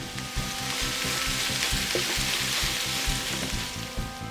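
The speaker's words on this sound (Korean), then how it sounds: "썰은 무 넣고 팬에 잘 펴준 후" Sliced radish with garlic frying in a pan, a loud, dense, continuous sizzle close up with a steady crackling hiss throughout and no pauses.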